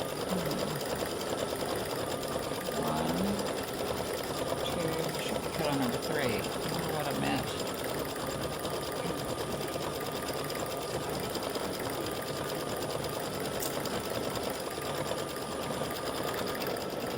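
An embroidery machine stitching a crescent moon design, a continuous close mechanical whir with rapid needle chatter, with brief talk over it early on.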